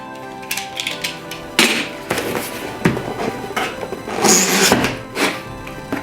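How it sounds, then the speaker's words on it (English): The shipping box of an iPhone 12 Pro Max is being opened, with cardboard scrapes, tearing and irregular thuds and rustles close by, bursts of handling noise with no talk. "let's open up the box and see how it is"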